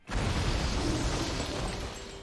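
A broad, rumbling blast that swells quickly and holds loud for a couple of seconds before slowly fading, like a cartoon bomb going off.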